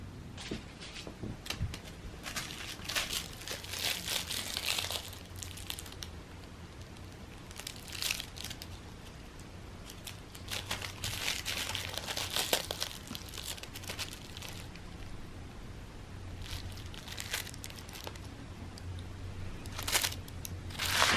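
A cat's crinkly toy ball rustles and crackles in scattered bursts, some louder and some quieter, fairly faint against a low background hum.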